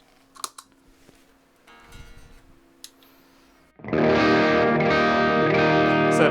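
A few faint clicks and taps, then a heavily distorted electric guitar chord rings out loud and sustained, thick with overdrive from a Sweet Honey Overdrive pedal gain-stacked into the amp.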